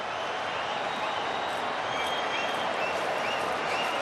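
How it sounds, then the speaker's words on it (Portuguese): Paris Saint-Germain supporters roar behind the goal after a penalty in a shootout against Flamengo at the 2025 world club final, a dense, steady wash of crowd noise and scattered claps holding level throughout. "A torcida parisiense explode atrás do gol."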